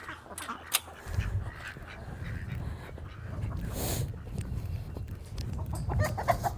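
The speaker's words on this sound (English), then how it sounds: "All right, chickens, watch out." Backyard chickens cluck in a garden, a steady low jumble of fowl calls with brief sharper sounds, moderately close and without speech.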